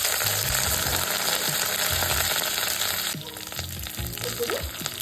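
Shallots, dried chillies and curry leaves frying in hot oil for a puntikura (gongura) dish, a steady close crackling sizzle with stirring taps throughout, easing slightly in the last couple of seconds.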